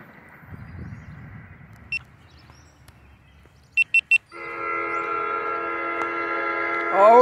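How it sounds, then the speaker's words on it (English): An NJ Transit commuter train sounds its horn during the morning rush: a few short toots, then a long sustained multi-tone blast that swells louder toward the end, heard close over low rumble and faint voices. "That's a nice horn show. Give me a horn show!"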